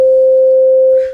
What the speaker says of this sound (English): That is a sine wave.